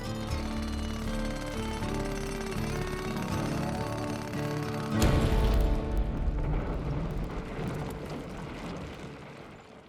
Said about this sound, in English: they just shake the pieces out of them when they turn them jackhammers on